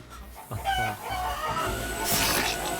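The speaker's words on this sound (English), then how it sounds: "You see live chickens whose wings and legs are being sliced endlessly." Live chickens clucking and crowing at close range, several overlapping fowl calls in a dense, continuous farmyard chorus.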